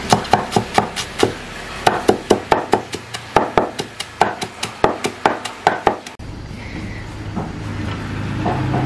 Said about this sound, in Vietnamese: cái củ này thì nó khó chín nên là mình đập, sẽ đập cho vào